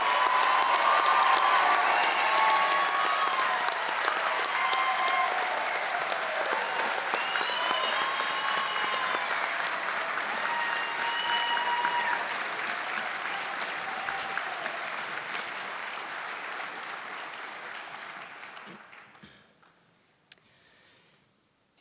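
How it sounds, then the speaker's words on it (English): Sustained audience applause for graduating fire recruits at a class graduation ceremony, a dense roar of many hands that holds steady, then gradually thins and fades out near the end, with a lone late clap. "Please join me in giving them a round of applause."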